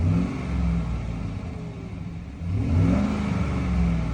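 A Chevy GMC 5.3L V8 with low oil pressure rumbles close by, its engine swelling with a rev, easing back to idle, then revving up again in a second rise.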